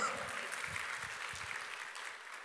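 A church congregation claps during a Korean worship service. The clapping is soft and somewhat distant, a steady patter that fades slightly toward the end, with faint voices underneath.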